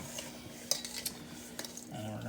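Donair meat gets mixed with seasoning in a bowl, with close clinks and scrapes of a utensil against the dish and a few sharper taps, over a quiet background.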